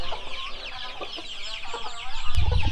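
Free-range chickens cluck and chirp softly in a rural yard, a mother hen with her two-week-old chicks, the small bursts steady and fairly close, rising to a louder low rustle near the end.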